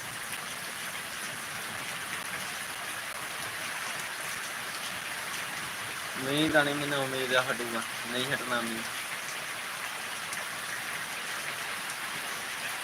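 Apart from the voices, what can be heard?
rain falling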